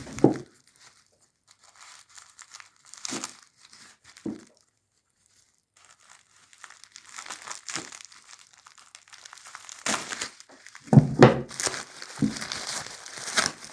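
Plastic bubble wrap packaging crinkles and rustles in scattered bursts as it is pulled and unwrapped, growing busier and louder toward the end.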